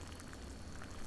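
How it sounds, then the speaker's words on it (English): A kettle of water boils in the video game Rosewater, a dense, even rolling bubble and hiss held steady throughout the short moment, close and moderately loud. "Let's go and put this water in the kettle to boil for hot boiling water."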